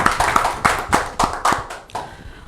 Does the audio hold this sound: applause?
yes